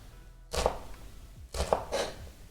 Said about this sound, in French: on a rapidement émincé nos oignons